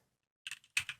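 Code is typed on a computer keyboard into an editor with GitHub Copilot: a close, clear run of rapid key clicks in quick uneven clusters after a brief silence, with no talking.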